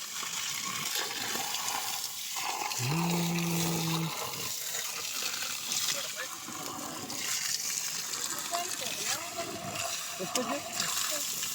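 Water gushes and splashes steadily into a hole during a cobra rescue, with a brief electronic tone partway through and voices talking over it.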